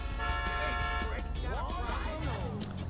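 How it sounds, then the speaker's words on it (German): A car horn honks in the video game GTA 5, sounding as steady tones in the first second amid game noise, with someone talking over it afterward. "Wie war denn nochmal die Hupe?"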